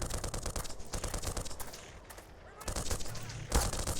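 Enemies in the video game Black Mesa open fire in a rapid, rattling burst of automatic gunfire that pauses briefly and then resumes, ending in a sharper shot.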